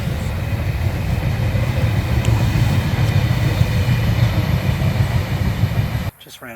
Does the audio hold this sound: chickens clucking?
no